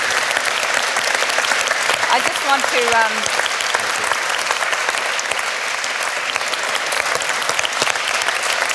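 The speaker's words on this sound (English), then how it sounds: "can we give some applause?" An audience at a conference on culture and climate breaks into sustained, dense applause while a speaker talks over the clapping.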